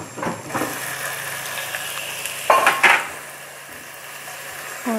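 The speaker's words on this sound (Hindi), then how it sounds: "अब मैं इसमें ये प्याज डाल रही हूँ जो मैंने प्याज पीस के रखा है।" Ground onion paste frying in a pan for dal bukhara hisses steadily, with a few sharp metallic scrapes of stirring partway through and no talking.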